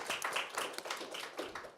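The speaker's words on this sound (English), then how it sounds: "I just want to encourage that round of applause." Audience applause following a panel discussion, a brief round of clapping from a modest crowd with no talk.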